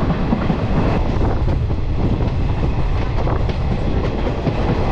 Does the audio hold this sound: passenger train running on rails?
yes